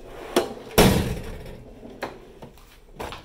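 Hammers are handled in a Snap-on toolbox, giving several sharp metallic clanks and knocks at irregular intervals, one louder impact standing out, close by with no talk.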